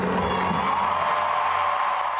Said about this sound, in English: if we could all please applaud the Eras Tour crew